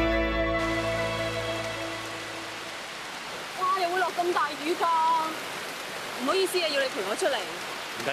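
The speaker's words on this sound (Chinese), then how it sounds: "哇！又會落咁大雨㗎" Heavy rain pouring as a steady wash of noise, with people talking over it.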